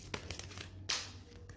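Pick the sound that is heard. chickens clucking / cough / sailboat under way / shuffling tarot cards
shuffling tarot cards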